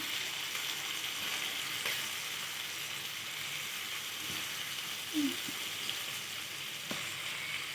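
Prawns frying in butter and garlic in a pan, a steady soft sizzle with occasional faint pops and clinks, moderately quiet and close, with no talking.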